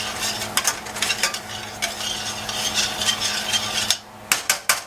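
Cooking wine reduces in a pan with lamb chops, giving a steady close sizzle with repeated sharp clinks and scrapes of a utensil against the pan, with no voices.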